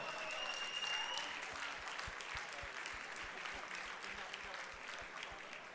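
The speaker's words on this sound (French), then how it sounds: "on vous applaudit bien fort" Sustained applause from an audience at a regional burger-cooking competition final in France, steady dense clapping throughout with a few sharp beats, fairly loud and close, with no talk over it.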